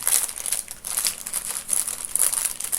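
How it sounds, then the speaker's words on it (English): A plastic bag crinkles and rustles steadily as it is opened during a knitting session, bright crackly bursts repeating close to the ear with no talking. "So I've just opened this bag"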